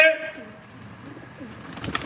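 Young pigeons coo softly at a live bird auction, low warbling calls under a busy room with voices and scattered noise at the end.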